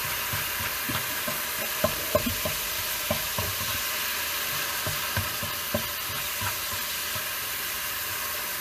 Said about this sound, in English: And you're going to want to just saute it for a little bit till it becomes almost a paste.